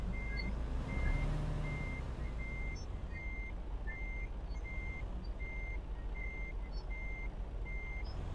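Reversing beeps of a truck in the video game American Truck Simulator, a steady evenly spaced series of high beeps over a constant low engine drone, loud and close with no talk.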